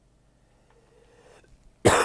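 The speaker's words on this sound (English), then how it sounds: "the streamer is just coughing directly into his lavalier mic" A streamer coughs once, loudly, straight into a clip-on lavalier microphone after a quiet stretch. The cough is close and harsh.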